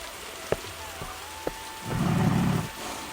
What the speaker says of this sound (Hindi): देखते ही देखते जंगल में अचानक मूसलाधार बारिश होने लगते हैं।